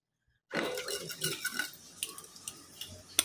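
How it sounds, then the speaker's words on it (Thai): A spoon stirring seasoning in a bowl to dissolve sugar for a Thai shredded-chicken larb dressing, giving close, irregular clinks and scrapes against the bowl after a short silence, with no talk. "เราคนให้น้ำตาลละลายก่อนนะคะ"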